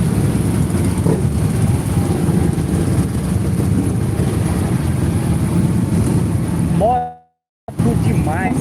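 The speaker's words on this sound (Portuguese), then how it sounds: "Moto demais, cara. Muita moto, viu?" A big motorcycle rally heads to Brasília, with a column of bikes stretching about two kilometres; the engines blend into a loud, steady, dense rumble that briefly cuts out near the end, with a voice speaking over it.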